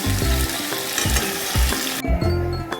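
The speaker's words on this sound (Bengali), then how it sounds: "মশলা যতক্ষণ না তেল ছাড়ছে ততক্ষণ ভালোভাবে কষতেই থাকো।" Spices sizzle as they are sautéed in oil for a homemade meat curry, with a steady loud fry and periodic scraping stirs of the pan.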